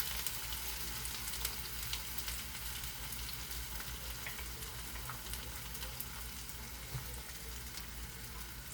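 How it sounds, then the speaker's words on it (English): Onion and a bay leaf fry in oil with a dense, even sizzle that holds steady throughout, close and fairly quiet, with faint stirring underneath and no talking. "We are stirring the onion and the bay leaf."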